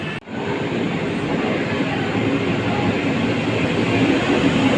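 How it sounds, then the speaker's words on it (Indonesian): Steady rumble of an Indonesian KRL commuter train carriage in motion, a continuous rolling roar with faint rail clatter, heard from inside the car. "Dan ini kita akan naik KRL nya."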